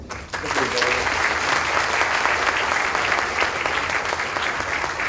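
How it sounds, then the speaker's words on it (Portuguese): Audience applauding a professor after a lecture, a full burst of steady clapping from a seated crowd that starts abruptly and continues evenly, with a voice briefly audible beneath it. "Uma salva de palmas para o professor"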